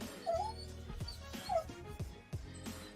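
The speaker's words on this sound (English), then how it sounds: "Oh, I heard the dog whining." A dog whines and yips in short, high, plaintive bursts, several times, heard indoors under low background noise and some nearby voices.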